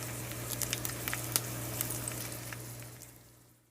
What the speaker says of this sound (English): Listen to that sizzle when the batter hits the hot pan.